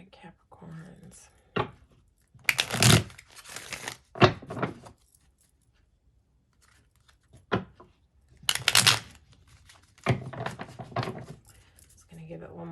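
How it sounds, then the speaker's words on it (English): Tarot cards are shuffled in several crisp riffling bursts separated by pauses, close to the listener, with soft whispered speech between them. "Just gonna give it one more shuffle and then we'll dive in."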